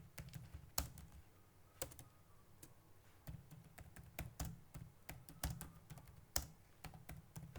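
Keys tapping on a computer keyboard, quiet and close, in irregular bursts of clicks with short pauses between them.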